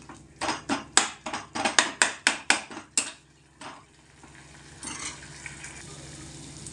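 Tomatoes, onions and green chillies sautéed in a pan for masala bhindi: about ten rhythmic, loud spoon scrapes against the pan, then a quieter steady sizzle with a few softer stirs.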